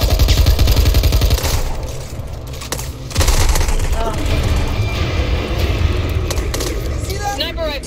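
Rapid sniper rifle and other gunfire crackling close and loud in the zombie co-op shooter Back 4 Blood, mixed with dense game effects and overlapping player chatter.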